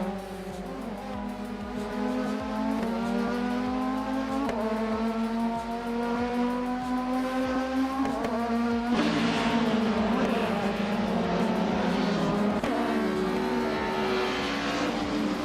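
Race car engines in a racing video game drone with steadily rising and falling pitch, shifting gears a few times, loud and continuous with a brighter surge midway.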